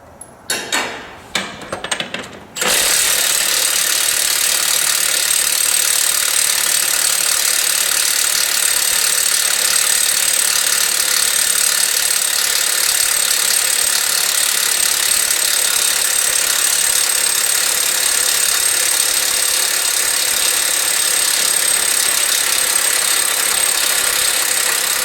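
A Milwaukee 2864 3/4-inch cordless impact wrench hammers on semi truck tire lug nuts, a loud, continuous rapid rattling buzz sustained for over twenty seconds after a few short bursts, close and alone.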